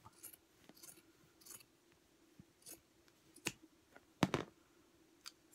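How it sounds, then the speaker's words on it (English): Scissors snip through folds of an old curtain fabric being cut into kitchen towels, sounding as a few soft, scattered clicks and one louder, sharper cut near the end, with no talking. "anywhere there's a fold, you want to cut through"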